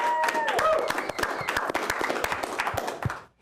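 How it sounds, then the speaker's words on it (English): Studio audience applause on a talk show, dense clapping sustained across the whole stretch and then dropping away sharply at the very end. "Big round of applause for these guys."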